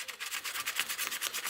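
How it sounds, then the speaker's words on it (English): Wood carving being hand-sanded with quick, rhythmic back-and-forth strokes, each a soft, close scratchy rasp that repeats steadily with no voices. "do a bit of sanding just to see if anything needs a little bit of shaping"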